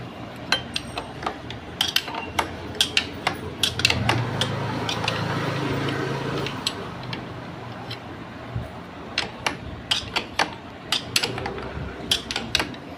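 Metal fittings clink and tick in a rapid, irregular run of small close taps as the handlebar clamps on a two-year-idle TVS Victor GX motorcycle are tightened by hand, with a low workshop hum underneath.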